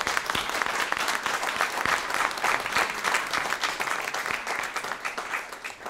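An audience applauds schoolchildren from Gruppeskolan in Umeå: dense, steady clapping from many hands, fairly close and loud, continuing without a break and with no voices over it.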